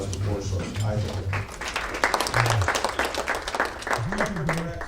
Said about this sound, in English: A round of applause for BoardSource.